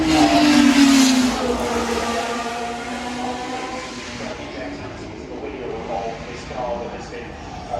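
Six-wheel Tyrrell Formula 1 race car at the 2021 Festival of Speed, engine note loud at first then fading as the car passes and moves away, with a commentator talking over it.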